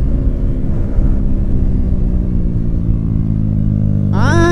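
A Yamaha R15 V4 motorcycle fitted with a full-system Yoshimura exhaust races loudly close by, its engine droning steadily before the pitch climbs sharply in a rev near the end, with no talk over it.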